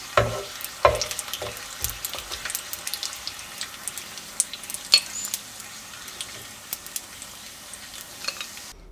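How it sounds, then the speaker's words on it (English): Bacon strips frying in a pan until crispy, with a steady crackling sizzle and scattered sharp pops and spatters throughout, close and moderately loud. "let's do the pan frying first with these 3"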